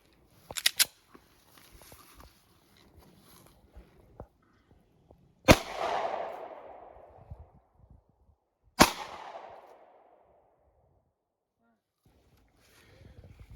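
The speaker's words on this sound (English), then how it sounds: "Next, we're loaded up with some 180 grain Federal 40 Smith & Wesson. We're shooting out of the Springfield XD40." Two sharp, loud pistol shots from a Springfield XD40 loaded with 180 grain Federal .40 S&W, a few seconds apart, each trailing a decaying outdoor echo, with faint handling clicks before them.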